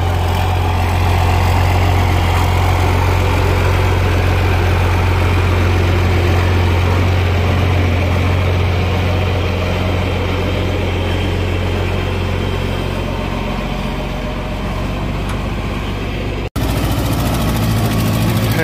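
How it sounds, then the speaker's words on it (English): Tractor with a four-cylinder Wisconsin engine idles steadily and loudly up close, a continuous low rumble that barely changes over the whole stretch, with a brief dropout near the end. "Got a 4-cylinder Wisconsin in it."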